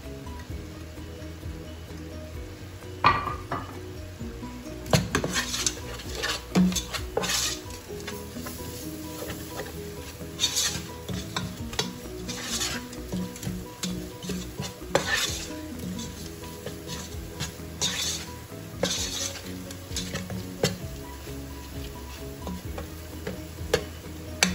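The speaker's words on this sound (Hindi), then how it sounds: "2 मिनट के लिए मैं इस मसाले को भूनूंगी।" Red chilli powder, cumin powder, turmeric, dry coriander powder, whole garam masala and garlic sautéing in a pan for a Mughlai saffron quail dish, with steady soft sizzling and repeated spoon scrapes and clinks against the pan, close and alone.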